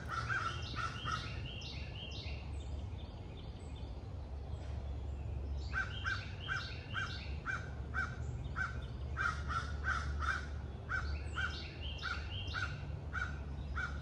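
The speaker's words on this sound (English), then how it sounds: "There's no silence in my backyard, just too many birds." Crows caw repeatedly in a backyard, loud bursts of harsh calls in rapid rhythmic series, with other birds chirping and a low steady hum underneath.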